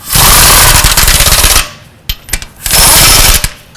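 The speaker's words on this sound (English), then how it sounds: "I'm going to go ahead and snug up these lug nuts." An impact wrench snugs the lug nuts on a 2006-11 Honda Civic wheel: two loud, rapid hammering bursts of about a second and a half each, separated by a short quiet gap with a few clanks, heard close up with no talking.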